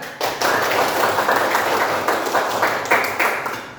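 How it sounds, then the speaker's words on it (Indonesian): A fifth-grade elementary class claps hands together in a dense, steady burst that runs nearly the whole time, close and loud, with only faint voices underneath. "Tepuk tangan, tepuk tangan."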